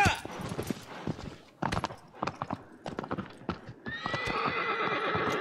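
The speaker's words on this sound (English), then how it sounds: "And Aggro is the best horse." Hoofbeats and a shrill whinny from the horse Agro in the video game Shadow of the Colossus, irregular clip-clop thuds building toward a long neigh near the end, fairly close and clear.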